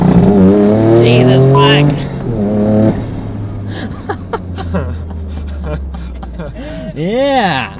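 A GR Corolla hatchback fitted with a Syvecs AWD controller accelerates hard, its engine note climbing through rising tones under excited voices, then a short squealing chirp near the end.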